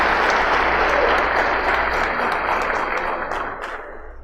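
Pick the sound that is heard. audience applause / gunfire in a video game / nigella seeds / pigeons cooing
audience applause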